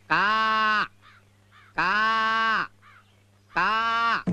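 Three loud, drawn-out crow caws ring out close by, evenly spaced with short quiet gaps between them.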